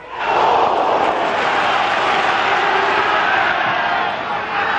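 St Mirren football match crowd growing anxious late in the game, a dense continuous roar of many voices in a stadium, loud and sustained.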